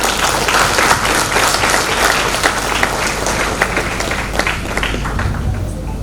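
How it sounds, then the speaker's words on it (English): A large audience claps steadily at a college convocation ceremony, giving graduates a heartfelt round of applause, loud and continuous with individual claps sharp in the mix. "Please join me in giving them a heartful round of applause."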